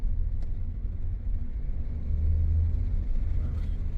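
A VW Polo TSI Highline with a turbo engine accelerating, heard from inside as a deep, steady low rumble that swells a little in the middle, with no talking over it.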